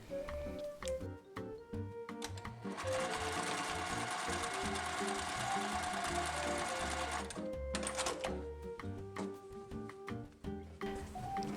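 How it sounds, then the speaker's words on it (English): A sewing machine stitches a fabric waistband together, its motor whirring in a steady continuous run through the middle stretch, with short bursts and pauses at the start and end. "then sew that waistband together"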